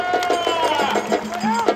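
Rhythmic crowd clapping at a women's wrestling bout at the Kondhwa kusti ground in Pune, steady quick beats in unison carrying on throughout while a voice talks over them.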